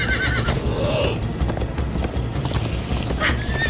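Horses whinny and gallop in the Minecraft Story Mode game, with a loud neigh over quick clip-clop hoofbeats that run steadily throughout.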